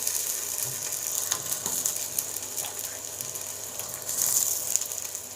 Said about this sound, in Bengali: তেল গরম হয়ে গেছে, এবার আমি বেগুন দিয়ে দিচ্ছি।